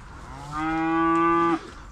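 A single cow lets out one long, loud moo lasting about a second, close by, then stops abruptly, leaving quiet background.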